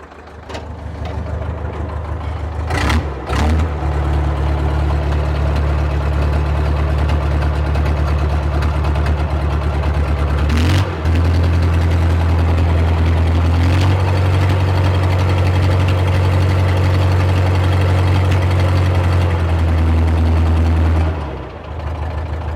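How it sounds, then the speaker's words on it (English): A Cat 922B wheel loader's heavy diesel engine runs loud and close, rising and falling as it is revved several times over a steady low rumble, with no talking. "I'm going to get in the machine and rev her up a little bit"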